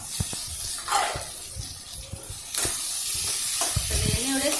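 Turkey berries (sundakkai) sautéing in a pan, soft sizzling and hissing with scraping stirs, quiet at first then a steadier, brighter fry hiss in the second half, with brief voice underneath.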